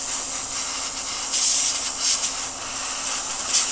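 A large airbrush sprays orange paint onto a tabletop miniature, giving a steady close hiss with a few brief louder bursts of spray and no voices.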